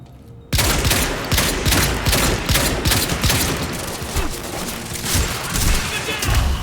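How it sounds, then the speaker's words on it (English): Loud video game gunfire erupts after a half-second pause into a continuous barrage of rapid automatic shots and impacts, steady and dense to the end, with faint speech mixed underneath. "Wow, that was a lot of bullets I put into that guy's butt."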